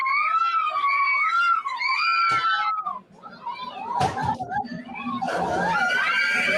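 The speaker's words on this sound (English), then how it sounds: "I hear a bunch of schoolgirls screaming their ears off" High, wavering screams fill the Haunted Mansion ride at Walt Disney World, loud and continuous. Mid-clip they break off into short clattery bursts and jumbled voices, then the screaming rises again.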